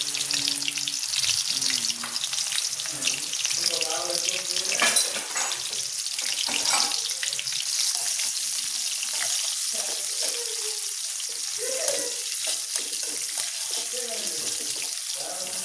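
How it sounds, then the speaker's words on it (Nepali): Garlic cloves and onion fry in oil in a pan for Nepali veg chowmein, a close continuous sizzle and hiss with faint scattered background voices. "लसुनको पोटी फुराउनलाई राख्दिने।"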